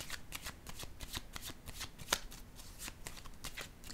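Tarot cards are shuffled by hand at close range in a quick, rhythmic series of soft papery riffles and flicks, quiet and with no talk.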